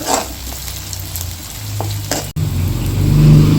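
Ginger sizzles in hot oil for a dry fish gravy made with vanjaram karuvaadu, a loud and steady frying crackle with a brief stir-like break partway through.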